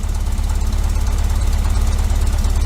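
A 1973 VW Super Beetle engine fitted with Dellorto FRD 34B carburetors idles steady and too high, a loud, close, even pulsing rumble with a fast regular beat and no talking over it.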